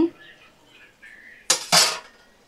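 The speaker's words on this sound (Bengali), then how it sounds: "দেখো আমি ঢাকাটা দেখো খুলে নিচ্ছি।" Metal lid lifted off a cooking pot of bottle gourd simmering on low flame, heard as two close, loud clanks in quick succession after a quiet stretch with faint background noise.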